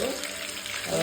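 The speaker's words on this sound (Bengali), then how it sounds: "দেখো দেখো ইলিশ মাছ ভাজা হচ্ছে" Hilsa fish frying in a pan makes a steady close-up sizzle of hot oil, moderately loud and continuous, with no talking.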